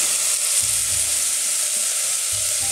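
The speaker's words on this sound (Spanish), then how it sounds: "Este a fuego alto lo vamos a sofreír por un minuto aproximadamente" Minced garlic and two finely diced onions sautéing in a little oil over high heat, a loud, dense, continuous sizzle with low stirring rumbles underneath, heard alone.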